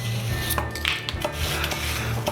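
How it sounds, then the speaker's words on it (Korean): A knife chops the green tops of a green onion into big pieces on a board, giving a few close, sharp taps against steady kitchen background noise. "대파 푸른 부분은 그냥 이렇게 큼직하게 썰어주고요"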